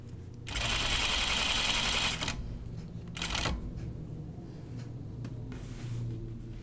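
Sewing machine sewing the curved neckline of a Tea House Dress: a long, close whirring run of stitches, a short second burst, then near quiet.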